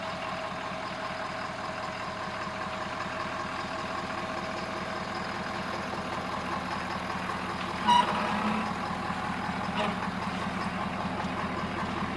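A Ford F-250 pickup with a 6.7 Powerstroke diesel idles steadily while backing up to hitch a trailer, its engine rumble constant throughout and a short louder burst near the end.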